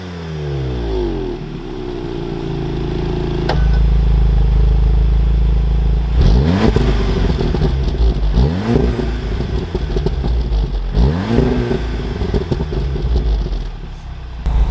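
A VW Golf R Mk7 with the center resonator deleted, idling, then revved several times in repeated rising and falling bursts, close and loud with burbly crackle between revs.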